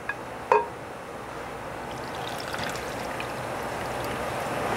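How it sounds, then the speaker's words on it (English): Orange chicken sauce poured over chicken thighs in a crock pot makes a steady, soft liquid stream after a brief glassy clink near the start, heard close with no talking. "You're just going to pour it over."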